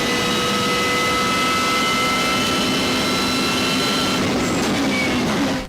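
Real BMW M3 GTR race car engine, a loud, sustained high-pitched whine with layered harmonics held steadily for several seconds before cutting off abruptly, with no voices.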